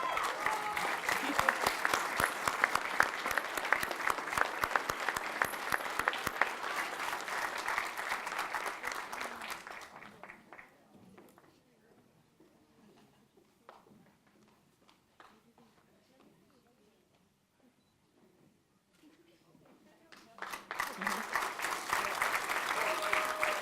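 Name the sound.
applause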